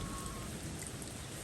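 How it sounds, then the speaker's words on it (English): Rain falls in a steady, soft hiss, with a dense patter of drops on surfaces close by, quiet and even throughout and no voices. "Enjoying the rain, enjoying the rain"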